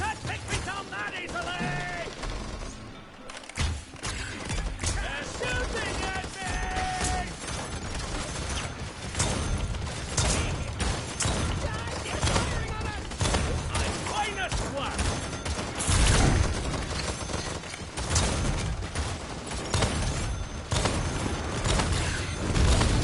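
Automated turrets in the video game Paladins fire steadily amid a dense, continuous clatter of rapid gunfire and mechanical ability effects, loud and sustained throughout, with game voice lines mixed in.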